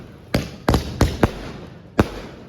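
Firecrackers bursting at a village Holi bonfire, five sharp loud bangs at irregular intervals over a low crackling background.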